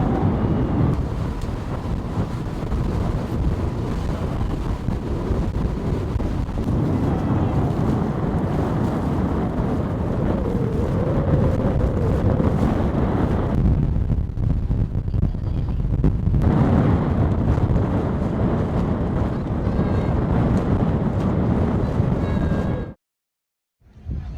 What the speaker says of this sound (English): Pretty windy, that's for sure.